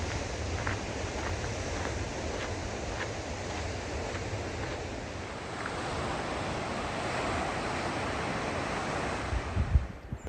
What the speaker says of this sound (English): The sound of the ocean was my soundtrack for the next few miles.